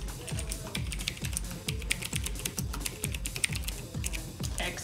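Typing on a Lindon-Tech Bluetooth mechanical keyboard with RGB backlight, a steady close run of clicky keystrokes with bright clacks in a regular rhythm, heard alone.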